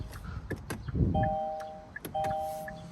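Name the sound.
2022 Kia K5 interior warning chime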